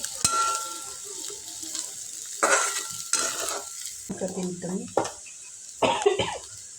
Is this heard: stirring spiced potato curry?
yes